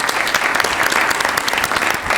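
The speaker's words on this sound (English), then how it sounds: "Let's give them a round of applause." Audience applause for a panelist at a league panel discussion, steady dense clapping filling the room throughout at close range with no speech.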